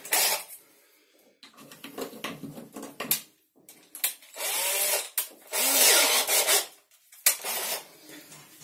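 Hand tools drilling holes for the legs of a bathroom cabinet, bursts of rasping, grinding noise in several separate runs with short pauses between them, close and fairly loud, with no talking.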